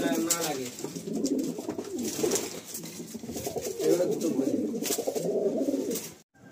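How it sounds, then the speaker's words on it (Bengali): Several pigeons coo close by, low rolling throaty calls repeating steadily throughout, ending with a brief thump. "দেখুন খোকাদা 3টে পায়রা একসঙ্গে হাতে নিয়ে রেখেছে, বলছে 4টে পায়রা নিয়ে নেবো"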